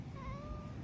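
A single soft, drawn-out cat meow, close and clear, with no talking.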